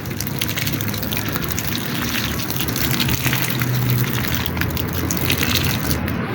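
Water pours steadily onto a layer of mixed kitchen scraps in a compost pile, a continuous close splashing gush that runs unbroken for several seconds with no talking.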